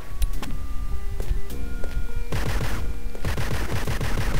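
Rapid bursts of gunfire from the Judge Dredd video game, set in sewers, with repeated loud shots and electronic game tones mixed together and growing denser toward the end.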